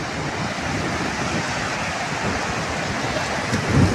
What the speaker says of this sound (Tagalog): At ang alon, napakaganda paghinggan sa tainga yung hampas ng alon.